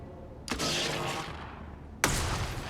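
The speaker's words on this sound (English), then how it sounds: "if I run here with a shotgun to kill it" Two sharp shotgun blasts from the Xenonauts 2 video game, about one and a half seconds apart, each a loud broadband crack followed by a sustained noisy tail, with no talk over them.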